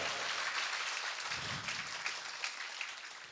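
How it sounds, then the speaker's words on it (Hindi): Faint, distant applause from a devotional satsang congregation in Darbhanga, with scattered claps rippling quietly through the whole moment and no speech over it. "सब एक दूसरे के लिए तालियों की गड़गड़ाहट कर रहे हैं"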